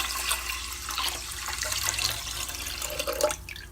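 Water pours into a cooking pot holding rice for congee, a close, continuous splashing gush that lasts several seconds and then tapers off.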